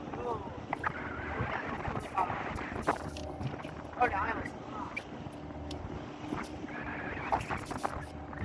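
A motor fishing boat cruises across open sea toward an offshore platform off Malaysia. Its engine drones steadily beneath buffeting wind and sea spray, with voices talking now and then over the noise.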